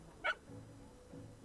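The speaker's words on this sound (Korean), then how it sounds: "강아지잖아." A puppy in the video game Reverse: 1999 gives a single short, high yip over a quiet, low background hum.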